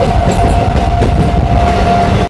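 The Jangipur Road Express passenger train rolls in with a steady, loud rumble of wheels on rails and a faint whining tone throughout, close by and uninterrupted by speech.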